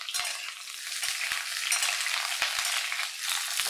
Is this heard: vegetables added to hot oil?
yes